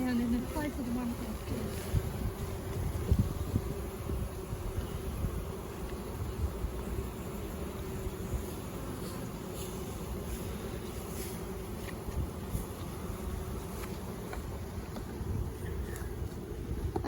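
Honeybees buzz around an open hive during an inspection, a steady, close, low hum of many insects that continues throughout, with light handling noise and some wind on the microphone.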